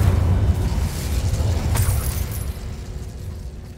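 The Incendio fire spell bursts in Hogwarts Legacy, a loud low rumbling whoosh with a sharp crackling flare midway that fades into a lingering roar.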